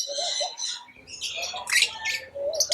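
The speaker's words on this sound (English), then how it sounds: "These are lovebirds. They are tiny, colorful birds that love each other." Small, colorful lovebirds squawk in a run of sharp, shrill calls and chirps, close and fairly loud, with no talking.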